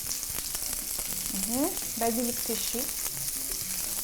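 Onion sizzles steadily in a hot pan while a person speaks briefly over the frying.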